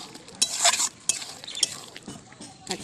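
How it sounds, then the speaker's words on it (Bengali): Meat for mangsho kosha is stirred and fried in a pan, with close scraping spoon strokes over a soft sizzle in an irregular rhythm and no speech. "বাইরে দেখো কী রান্না হচ্ছে দেখো এই মাংস কষা"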